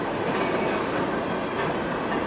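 A BNSF freight train rolls steadily past at close range, a loud, continuous rumble of wheels and cars with faint clickety-clack, no voices heard.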